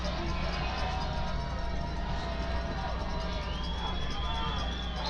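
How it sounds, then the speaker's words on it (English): A football crowd in the Prescott vs McGehee game roars loudly and steadily, a dense wall of cheering and babble that holds at full volume throughout. "Crowd's getting loud"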